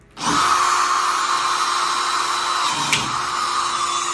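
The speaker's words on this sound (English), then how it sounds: "So now you got your 3 holes drilled." A power drill bores a hole for mounting a swinging screen door, a loud, close, steady whine that starts abruptly and holds for several seconds with a slight catch near the end, without talk.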